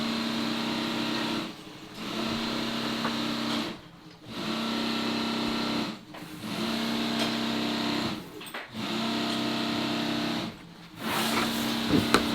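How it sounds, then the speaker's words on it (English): A fully automatic sewing machine in a tactical gear workshop runs steadily in several long bursts of stitching, each ending in a brief pause before it starts again, fairly close and loud. "What's in that full auto sewing machine?"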